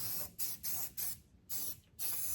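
An aerosol spray can lays a light coating around a weld on a 1949–1951 Mercury during an air-suspension install, with five or six short, close hissing bursts separated by brief pauses.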